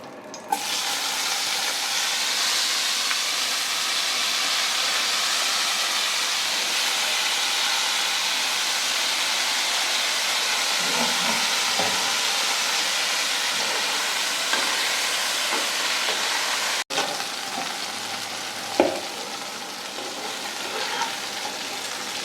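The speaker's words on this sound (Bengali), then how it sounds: "এবার এই তেলে আমি একটু বেগুন আর আলুটা ভেজে নেবো" Eggplant and potato pieces fry in hot oil left over from frying fish, giving a loud, steady, hissing sizzle that runs throughout, with a couple of brief clatters from a utensil.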